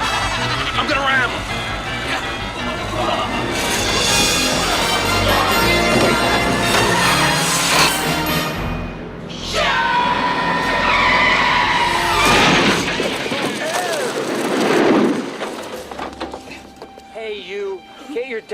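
A car skids loudly with sustained tire screeching and engine noise, rising and falling across the stretch, mixed with a collision-like burst and people talking over it.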